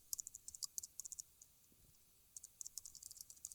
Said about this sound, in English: And then we just type in the link.